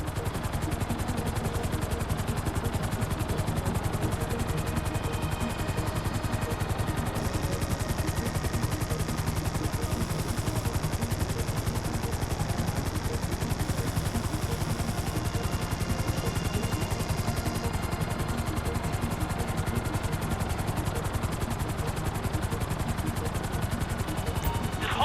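A helicopter hovering in the Grand Theft Auto V video game, a constant loud rotor and engine drone that holds steady throughout.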